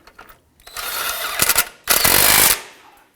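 A ratchet tightens an intercooler bracket on a 2015-2020 Ford F-150 2.7L V6. Two close, loud bursts of rapid clicking follow a brief quiet start, with a short pause between them.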